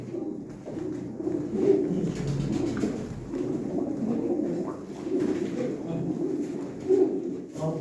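Several pigeons, including smoky males and females, coo repeatedly nearby in low, rolling calls that overlap and continue throughout, with faint background murmur at a live pigeon auction.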